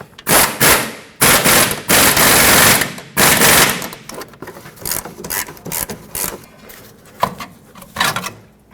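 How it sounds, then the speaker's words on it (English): Wrench tightening suspension bolts on a 2003-2012 Chevrolet Colorado 4x4 during an upper control arm replacement, with loud bursts of rapid ratcheting clicks in several close runs, then quieter intermittent clicks. "So let's tighten up these bolts."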